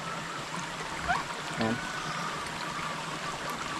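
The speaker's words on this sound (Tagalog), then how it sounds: "Pero mas maganda sana yung sapa kasi flowing tubig." A creek on a farm flows with a steady, broadband rush of moving water that fills the whole stretch, while a voice briefly speaks over it.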